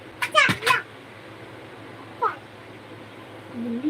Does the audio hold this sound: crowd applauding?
no